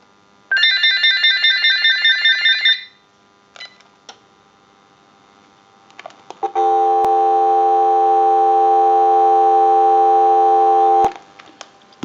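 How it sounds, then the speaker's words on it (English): A trilling electronic ring sounds first, then a few clicks, followed by a steady, continuous dial tone from a General Electric 27909 cordless telephone humming for several seconds before cutting off. "we'll give you some dial tone"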